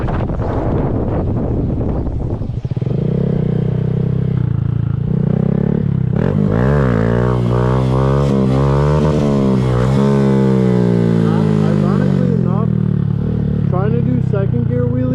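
Motorcycle doing a second-gear wheelie, the engine revving up in a long, rising surge close to the microphone, buffeted by wind noise, with someone talking before it and over it.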